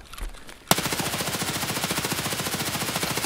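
Rapid automatic gunfire from an Escape from Tarkov firefight in an indoor lab hallway, starting abruptly after a brief quiet and continuing as a steady, loud, rhythmic burst of shots with no voice over it.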